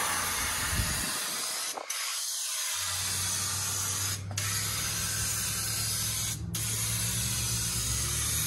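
Turbo aerosol cans spraying car paint onto a lowrider show car give a long, loud, continuous hiss with a few brief breaks, close by and with no talking.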